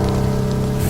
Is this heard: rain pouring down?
yes